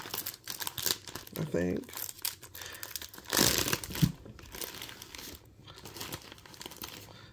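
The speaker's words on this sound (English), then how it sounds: "Let me cut it open." Plastic packaging from a thrift haul of doll clothing crinkles and tears as it is cut open and unwrapped. Close, uneven rustling runs under a person talking, with a louder ripping burst partway through.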